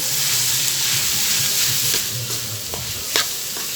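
Pork dinuguan with chopped banana heart being stirred in a hot pan, a steady sizzle and hiss with soft scraping strokes of the spoon and a few sharper clinks, close and continuous without talk.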